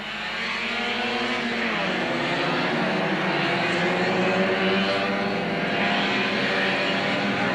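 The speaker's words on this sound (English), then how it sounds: "in pole position, as they're on the warm-up lap now" Fiat race cars roar past on a warm-up lap at a June 1987 race meeting, a steady dense engine drone with shifting pitch, while a commentator talks over the racket.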